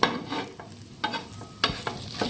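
Pav bhaji paratha frying on a pan, with a soft steady sizzle and several short scraping, stirring strokes from a spatula, moderately close, with no talk.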